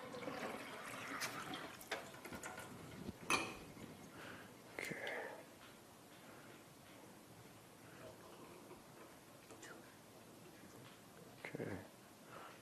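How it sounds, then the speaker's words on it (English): Ionized water from a kitchen faucet ionizer pouring into a glass, a faint, soft trickle with a few louder splashy bursts and small knocks, quiet room background. "Water going into the glass."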